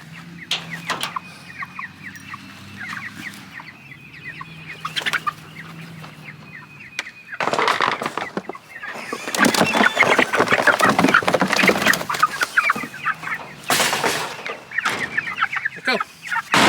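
Chickens cluck and squawk nearby as they are carried into a chicken tractor on a homestead, starting with sparse calls and growing into a busy, overlapping flurry of clucks and flapping.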